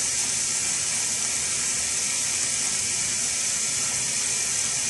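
Running water pours steadily from a faucet into a sink as hands are washed beneath it, a constant close hiss and splash with no pauses.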